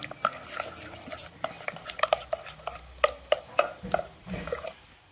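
A spoon stirs ginger garlic paste, melted butter and paneer tikka marinade in a metal bowl. Quick, close clinks and scrapes come in an uneven rhythm, moderately loud, with no talk.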